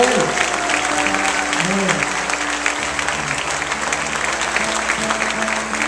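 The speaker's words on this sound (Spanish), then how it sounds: "Un aplauso a Jesucristo que viva para la gloria de Él." A congregation at a youth prayer service in Cofradía breaks into sustained, dense applause lasting the whole stretch, with soft sustained tones running beneath the clapping.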